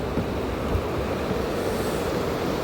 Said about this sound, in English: It's like the mountain stream, mountain falls.